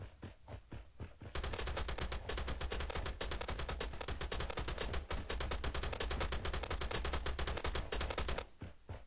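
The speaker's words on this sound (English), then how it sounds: "Pretty sure he's shooting at me" Rapid automatic gunfire from an enemy player in the battle royale game Rules of Survival, a long sustained burst of dense, evenly spaced shots that starts after a brief quieter moment and stops near the end, loud and close.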